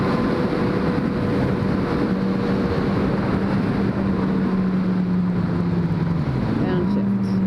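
A Yamaha FZ-09 motorcycle engine holds a steady drone on a cold ride, with wind rushing over the microphone; near the end the revs dip and then climb as the rider downshifts.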